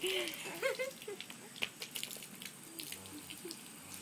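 Water running and splashing while a child waters plants outdoors, an uneven patter and spatter under occasional voices, moderately close.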